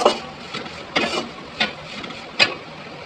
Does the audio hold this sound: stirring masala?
yes